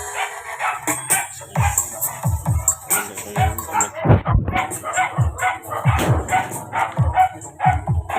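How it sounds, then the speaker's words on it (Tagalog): A dog barks repeatedly in short, sharp bursts with some yips and whimpers mixed in, heard through a newly built D12 speaker box powered by a JBL amplifier during a sound check, with a faint hiss behind it. "Ingay ng aso."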